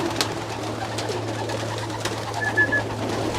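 Racing pigeons in a loft give soft, low cooing over a steady hum, with a few faint chirps and light rustles throughout; no one speaks.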